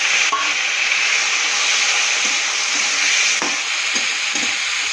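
Chopped tomato hits hot oil with panch phoron and sizzles loudly and steadily, a continuous close frying hiss with a few faint stirring knocks.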